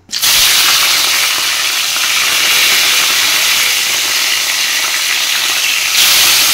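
Fish dropped into plenty of hot oil, giving a loud, steady, dense hiss and sizzle that runs unbroken from start to finish with no talking.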